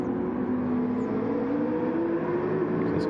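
Race cars in an endurance racing game, including an Audi, lapping with a steady droning engine whine that rises and shifts in pitch as cars pass one another, loud and continuous with no talking.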